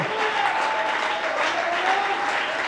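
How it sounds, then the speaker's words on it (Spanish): A church congregation applauds together in steady, sustained clapping. It carries evenly throughout at moderate loudness, with faint voices sounding beneath it. "Usted debería estar aplaudiéndolo, hermano."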